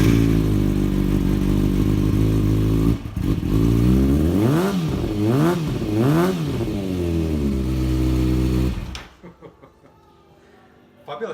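A 2013 Kawasaki ZX6R 600 performance edition sports bike with an Akrapovic exhaust starts and idles loudly, then revs up and down in several rising and falling sweeps before shutting off, close by.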